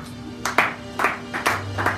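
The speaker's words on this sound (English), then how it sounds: "this part where you are clapping" An audience at a sermon claps in about four quick, evenly spaced bursts, moderately loud over a low room hum.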